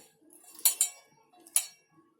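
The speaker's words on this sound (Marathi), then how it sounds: "आता या भजीमध्ये थोडी कोथिंबीर टाकते आणि चमच्यानी असं सारखं ढवळून" A spoon clinks and scrapes against a bowl while mixing bhaji batter with coriander, three or four quick metallic taps close by with soft stirring between them.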